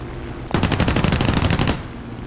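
An aircraft machine gun fires in War Thunder, a single loud, rapid burst of rattling shots lasting over a second against a low background hum.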